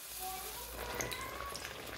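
Halved eggplants fry in heated oil, a faint, steady sizzle and light crackle with scattered pops, continuous and close.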